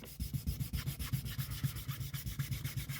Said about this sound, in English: I can hear something scratching it, and it's the finish that's clogging it